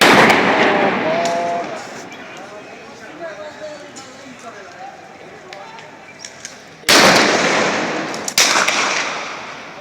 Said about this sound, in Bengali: তারা গুলি করতেছে